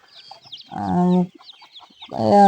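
Hens squabbling with each other give two bursts of harsh, loud clucking and squawking, separated by a short pause with faint chirps close by.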